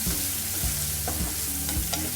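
Lemon rice is stirred and sautéed in a hot pan on the stove, with a constant sizzle and regular scraping strokes of a spoon against the pan. No one talks.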